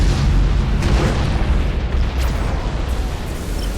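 Doomfire explosions in Battle Fleet Gothic: Armada 2 roar as a dense, loud, continuous wash of booming blasts that slowly eases off, with no talk.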